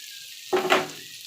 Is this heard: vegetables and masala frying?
yes